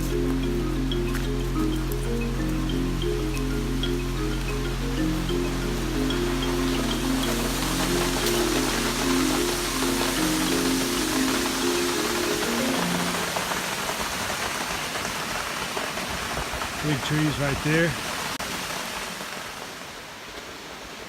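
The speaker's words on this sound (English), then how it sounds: "So there's the waterfall at the big tree right there behind me." Steady broadband rushing of a waterfall in the Sipsey Wilderness fills the clip near and loud, with a low droning hum under the first part and a short spoken remark toward the end.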